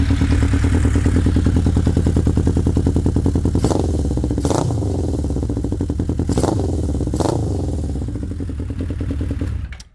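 A 1979 Honda CB750 F Super Sport motorcycle engine runs steadily at close range, loud and continuous, with a rapid even exhaust pulse and a few sharp clattering knocks near the middle before it cuts off at the end.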